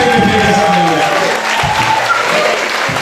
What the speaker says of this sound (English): Keep the clap going, man.